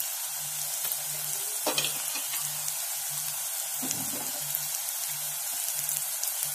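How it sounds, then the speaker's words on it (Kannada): Curry leaves sizzling and crackling in hot oil in a pan while cooking a brinjal palya, a close, steady frying hiss with small pops and a few stirring scrapes, no talking. "ಇದು ಕರ್ಬೇವಿನ ಸೊಪ್ಪು ಹಾಕೊಳ್ತೀನಿ."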